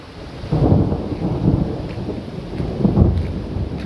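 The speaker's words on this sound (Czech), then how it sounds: "A přesto sem teče takovýhle příval po malým dešti" A torrent of floodwater pours down a track from a cottage area after only light rain, making a steady, close, rumbling rush of water that swells and eases with no voices present.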